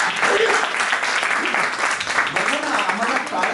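A lecture audience breaks into applause, a broad wash of clapping that carries on steadily at moderate volume while a voice speaks over it.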